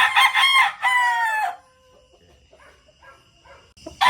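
A roundhead gamefowl rooster crows loudly and close by in two long, strained bursts, followed by quieter clucking and rustling, then a short new sound at the very end.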